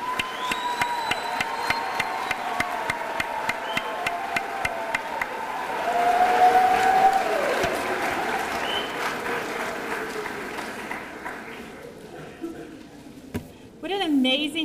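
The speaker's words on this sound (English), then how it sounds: "Let's give a round of applause to our graduates" Sustained audience applause for graduates at a 2012 GED graduation ceremony, dense clapping throughout that swells midway and then thins toward the end, with a voice speaking over it near the close.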